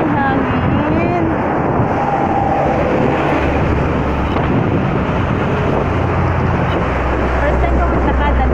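Steady, loud wind buffeting the microphone outdoors in Kuwait City, a dense roar with low rumble throughout; faint voices may be buried beneath it.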